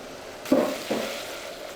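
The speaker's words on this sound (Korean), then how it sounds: "밑간을 한 고등어를 양파, 토마토와 함께 올리브유에 넣고 볶다가" Mackerel with onion and tomato sizzles and is stirred in olive oil in a hot pan, with a few scraping stir strokes over a steady frying hiss.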